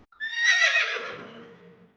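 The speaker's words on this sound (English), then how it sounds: "Look at the horse. He goes neigh." A horse gives a single loud, close whinny lasting about two seconds, rising shrill and then trailing off into a lower, shaky fade, with nothing else around it.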